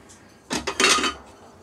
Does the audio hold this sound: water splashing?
no